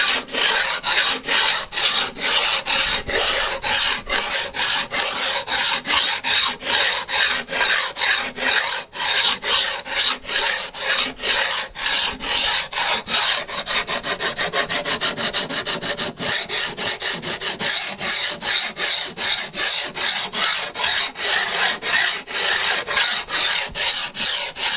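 A file levels guitar frets in steady back-and-forth rasping strokes, continuous and close, with no talk.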